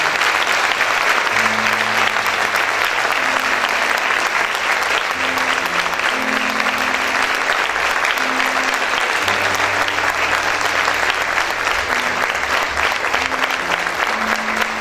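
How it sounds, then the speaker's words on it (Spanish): A church congregation applauds during worship, long, loud and sustained clapping that fills the room from start to finish, with low organ or keyboard chords sounding underneath. "Dale ese fuerte aplauso al Señor."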